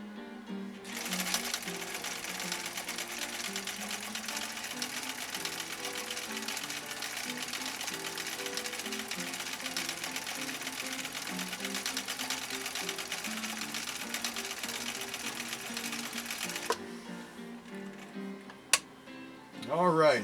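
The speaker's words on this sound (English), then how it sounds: "there's our next stitch right there" A 1962 Husqvarna Viking Type 21E vintage sewing machine runs steadily, stitching a decorative cam pattern with a dense, continuous mechanical whir for about sixteen seconds, then stops, leaving a few faint clicks and handling sounds.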